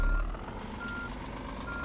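A truck reverses in the On The Road video game, its backup alarm sounding steady repeated beeps over a low engine hum, with no talking.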